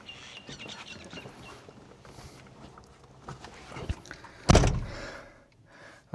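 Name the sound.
Nissan Homy camper van door being opened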